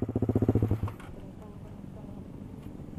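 A Honda Sonic 150R motorcycle ridden fast gives a short, rapidly pulsing engine burst, then fades into a steady rushing roar of riding and wind.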